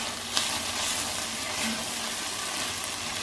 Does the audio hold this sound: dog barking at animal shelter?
no